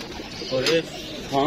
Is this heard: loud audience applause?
no